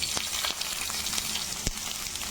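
Onion and green chilli sizzle with garlic in a hot pan, a quiet steady crackle broken by occasional sharp pops and spits of oil, with no voices.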